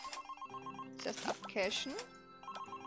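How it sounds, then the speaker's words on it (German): A telephone rings in the cooking game Delicious - Emily's Tea Garden, a repeating electronic ring pattern at a moderate level, briefly covered by someone speaking German partway through. "Och nee, schon wieder das Telefon."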